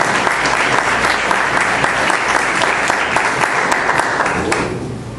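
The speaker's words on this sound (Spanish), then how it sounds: "Démosle ese fuerte aplauso de bienvenida." A church congregation bursts into strong, sustained applause of welcome, dense clapping filling the room for about five seconds before tapering off at the end.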